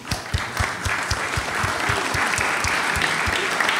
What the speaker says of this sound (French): On va d'abord vous applaudir et vous remercier.